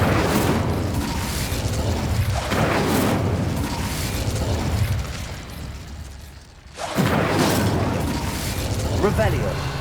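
Incendio fire spell cast in Hogwarts Legacy, a loud sustained roaring burst of flames and rumbling blasts that runs for several seconds, cuts out briefly, then surges again, with game dialogue over the top.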